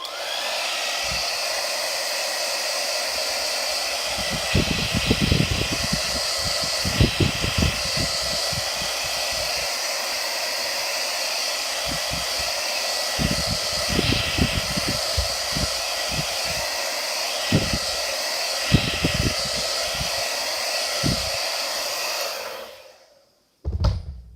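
A hair dryer on a cool setting blows steadily indoors to dry ink, a continuous airy roar with faint low thumps, then cuts off abruptly near the end.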